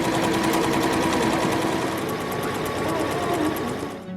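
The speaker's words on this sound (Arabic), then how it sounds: "تبدأ الآن الماكينة بالرسم بالتطريز العادي لرسم التفاصيل الخارجية للتصميم" An embroidery machine stitches a rose design onto fabric, running as a loud, steady, rapid mechanical chatter that holds continuously throughout before easing slightly at the end.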